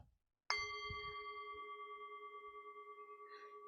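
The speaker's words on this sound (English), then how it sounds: "And when I ring this bell" A bell is struck once at a candlelit meditation gathering, ringing with a bright clear tone that sustains and slowly fades with a gentle pulsing shimmer, alone in a quiet room.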